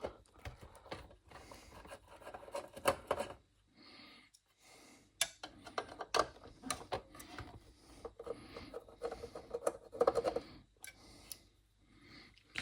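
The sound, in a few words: unscrewing screws on an Atari 800 computer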